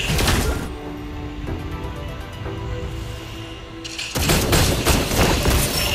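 Gunfire and booming explosions from the mobile MOBA game Mobile Legends, a dense, loud barrage of rapid shots and impacts that carries on steadily, surging again near the end.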